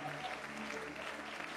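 A church congregation bursts into brief, dense applause and acclamation, clapping continuous and fairly loud with voices blended in.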